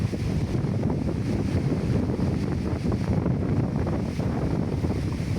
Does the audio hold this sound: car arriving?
no